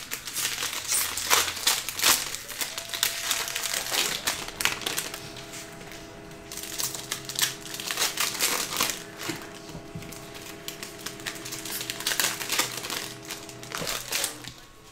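Cellophane wrapping of Panini Prizm multi-pack cello card packs crinkles and tears open, a steady dense crackle of plastic lasting throughout with brief louder bursts, close and alone with no talk.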